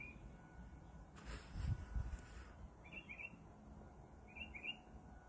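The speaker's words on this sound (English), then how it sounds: "Just a little bird." A small bird chirps outdoors during a solar eclipse, two brief high twittering calls standing out faintly over quiet ambience after a short rustling thump.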